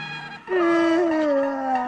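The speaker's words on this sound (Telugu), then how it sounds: "బర్రె ఏంట్రా మనిషిలా మూలుగుతుంది?" A buffalo gives a long, drawn-out groaning moan, loud and close, with a steady wavering tone after a brief quieter start.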